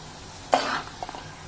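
Dry prawn curry seasoned with cumin-fenugreek powder being stirred in a pan: a short scrape and soft sizzle, followed by a few faint clinks, close and quiet.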